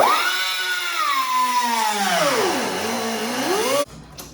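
Power tool cutting into a plastic car bumper on a G35 sedan, a loud whining motor whose pitch sags under load and rises again, running steadily for several seconds before cutting off abruptly.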